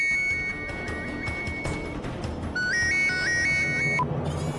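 A telephone rings after a number is dialled, with repeated high electronic tone bursts sounding over a noisy room background, fairly faint and in a steady pattern with no one talking.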